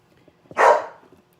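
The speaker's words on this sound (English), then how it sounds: "So there goes my dog." A single loud, close dog bark indoors, sharp and brief, against quiet room background.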